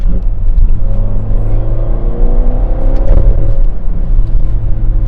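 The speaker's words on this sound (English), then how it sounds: "you get that really deep, throaty V8 exhaust sound" A Ferrari Portofino's V8 engine rumbles steadily and loudly up close with a deep, throaty exhaust, with a brief rise in revs partway through.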